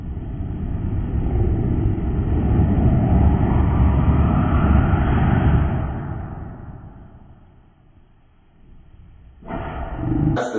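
Ignited alcohol vapor roaring out of a jug in a jug jet experiment, a loud sustained whooshing rush that swells, fades away over several seconds, then a brief burst of flame noise returns at the end.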